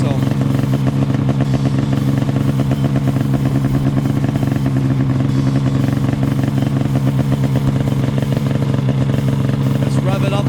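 Snowmobile engine revving loudly up close during repairs, a continuous rough mechanical drone with rapid rhythmic pulsing, steady and dominant throughout.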